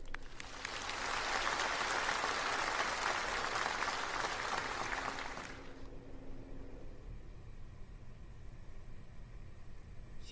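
Congress delegates applauding in a large hall at the 19th National Congress of the Communist Party of China, a dense, steady wash of clapping for about five seconds that then stops, leaving quiet room tone.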